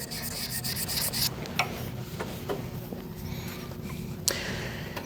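Sandpaper rubbing steadily against a wooden pen blank spinning on a lathe, a continuous close raspy hiss with brief sharper scrapes, heard alone without talk.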